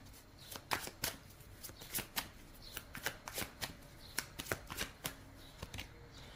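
Tarot cards being drawn and shuffled, a quiet, close series of crisp riffling snaps and soft slides in an irregular rhythm with no voice.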